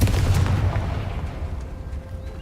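A Confringo blast spell in Hogwarts Legacy goes off as a heavy booming explosion that rumbles and fades out over a couple of seconds, with no speech.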